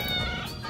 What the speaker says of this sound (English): So it seems that my cat will say meow twice and shake its head.